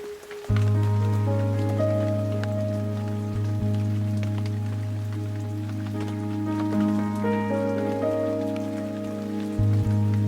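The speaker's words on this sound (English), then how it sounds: "It basically rained all night and all morning, drenching everything, apart from me underneath this lovely brolly." Rain falls steadily on a fishing umbrella during a carp fishing trip, a constant patter of drops accompanied by sustained droning tones.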